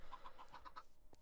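Chickens in the Minecraft video game giving a quick run of about six short, evenly spaced clucks, fairly quiet and with no other sounds.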